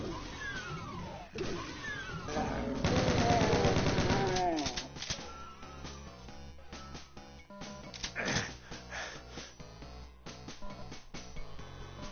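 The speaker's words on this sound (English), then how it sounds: "I got the chain gun." Chain gun firing in the Game Boy Advance version of Doom, a rapid burst of electronic gunfire mixed with game music and monster growls, loud and up close.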